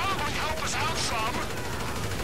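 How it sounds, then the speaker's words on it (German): Gunfire in GTA V with unlimited ammunition, rapid bursts of shots running continuously and loudly, mixed with excited voices talking over the shooting. "Okay, wir haben unendlich Munition, wir können ballern"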